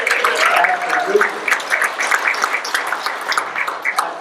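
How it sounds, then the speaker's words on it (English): Audience applause for a group of presenters at a Black History Month speakers bureau event, a steady wash of clapping hands from a room of people, fairly loud and sustained without pause. "Why don't you give all of our presenters a round of applause?"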